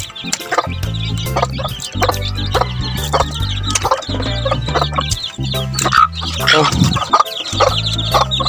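Hens and chickens cluck busily at feeding time on a Filipino backyard farm. Repeated clucks and squawks continue throughout with no pause, close by and fairly loud, over a steady low rhythmic music bed.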